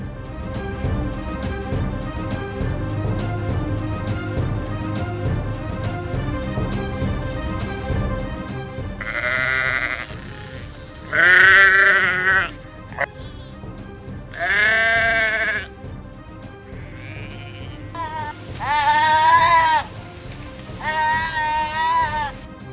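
Several loud sheep bleats ring out one after another in the second half, following a stretch of low background noise.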